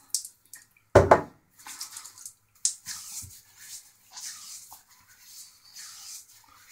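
Water from a shaving soap puck is poured into a hand and splashed onto a face, giving close, soft splashes and wet patting in short irregular bursts with quiet gaps between them.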